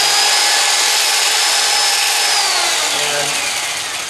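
A steady, high-pitched power drill whir grinds continuously against soft surfboard foam, holding loud and even before tapering slightly at the end.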